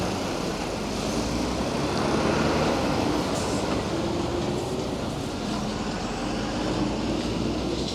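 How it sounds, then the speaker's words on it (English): A water tanker truck parked on a town street in Yunfu, China, to water traffic-island gardens, heard as a steady, dense engine and traffic rumble that holds level throughout with no talking. "we've got a water tanker parked out here, coming to water the gardens on the traffic islands here."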